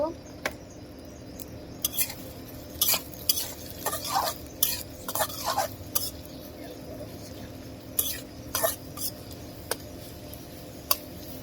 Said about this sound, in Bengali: ভাজা হোক পেঁয়াজটা ভাজা হয়ে গেছে